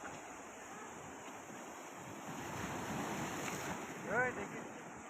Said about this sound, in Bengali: একটার পর একটা ঢেউ চলেই এসেছে।